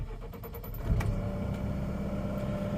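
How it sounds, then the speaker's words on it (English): A New Holland C327 skid steer engine cranks and catches with a low burst, then settles into a steady idle, heard close up inside the cab. "Then I'm going to start the machine."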